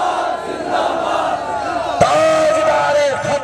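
Large crowd at a religious gathering chanting a slogan in unison, loud and sustained, with a sharp burst midway as voices swell together.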